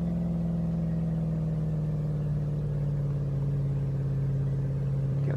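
A Porsche Panamera driven in Euro Truck Simulator 2 gives a steady, close engine drone with a constant low hum and even tone throughout, with no talk.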